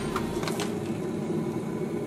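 Water heating for rosebud tea gives a steady, even rushing hiss and low rumble in the background, continuous and fairly faint with no voices.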